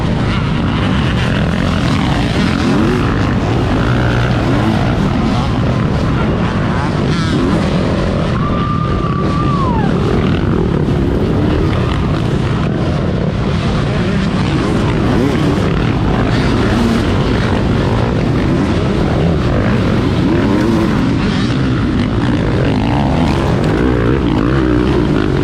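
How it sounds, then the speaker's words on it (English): Twenty dirt bikes, among them a 2020 Beta 300, roar off a race start line together, a dense, loud, continuous engine drone that holds steady throughout. "20 bikes are off the AA line."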